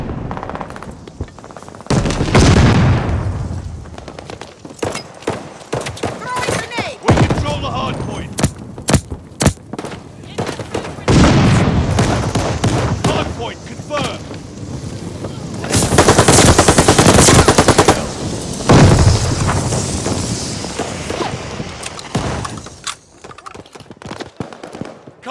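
Automatic weapon fire crackles in bursts through a Call of Duty: Vanguard multiplayer Hardpoint match against bots, loud rapid volleys and scattered shots with explosions, while a game announcer's voice speaks over the combat.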